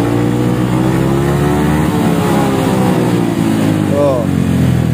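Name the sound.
Yamaha XMAX 250 with stock exhaust revved to 8000 rpm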